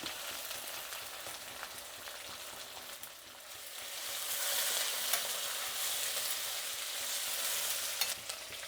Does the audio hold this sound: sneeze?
no